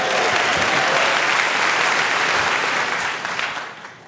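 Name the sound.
audience applauding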